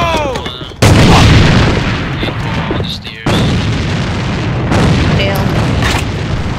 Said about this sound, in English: Enemy grenade in the hole!